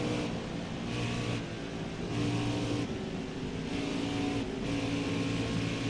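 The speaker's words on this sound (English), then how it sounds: "car just not quite getting up to speed" Race car engine in NASCAR Heat 5 at Auto Club Speedway, running on new tires but slow to gain speed, a steady loud drone with rising and falling pitch that swells and eases in waves, with no talk.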